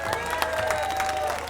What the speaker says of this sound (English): Can we just give the police another round of applause